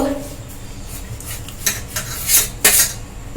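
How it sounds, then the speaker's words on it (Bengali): A knife rasps and scrapes as it trims the crusts from bread slices, a few short scratchy strokes that grow louder toward the end, close and fairly loud. "এভাবে সুন্দর করে ধারগুলো কেটে আমরা বাদ দিয়ে নেব"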